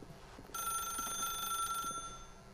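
A telephone rings in The Stanley Parable, a bright, steady electronic bell tone that starts abruptly, holds for about a second and a half, then cuts off, heard alone over faint background.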